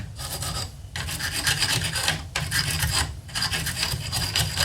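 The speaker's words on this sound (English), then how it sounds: "I want to just go over these with just this wire brush." A wire brush scrubs corroded metal inside an acid-treated electrical load center, a steady rasping back-and-forth in close, loud strokes with brief pauses between bursts.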